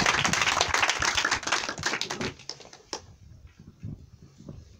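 Applause from a crowd at a Balochistan Awami Party political gathering, a dense burst of many hands clapping that thins out and fades after about three seconds, leaving scattered claps and background murmur.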